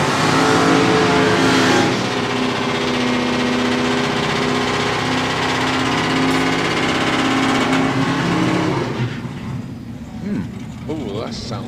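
A drag racing car runs at Santa Pod, a loud engine roar up close at first that then holds as a steady throbbing drone before fading away, with a commentator talking over it.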